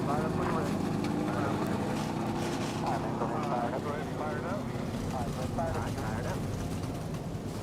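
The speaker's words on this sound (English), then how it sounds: "Drivers, start your engines! Go ahead and fire it up." NASCAR Xfinity race car engines fire up at Dover for the Bar Harbor 200, a continuous low engine drone heard under loud announcer talk.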